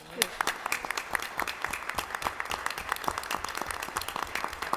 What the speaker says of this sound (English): So please give these teams a round of applause.